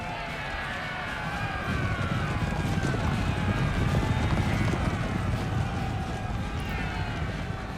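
Dragoon cavalry horses charge in the Napoleon Total War video game, a dense rumble of many hooves under constant battle noise and a high whining tone, all sustained and loud.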